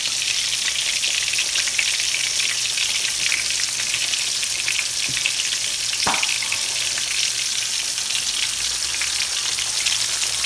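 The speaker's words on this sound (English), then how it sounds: "it's not going to take them long to fry up" Thin crappie fillets deep frying in hot oil give a steady, dense sizzle with a constant bubbling hiss, close by and uninterrupted, with one or two faint clicks.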